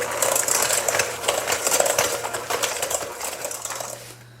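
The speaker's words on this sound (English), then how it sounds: "I'm going to use my hand mixer to mix this really well." An electric hand mixer beating eggs with white and brown sugar in a bowl, a steady whirring buzz with rapid rattling clicks against the bowl, close and continuous before stopping abruptly.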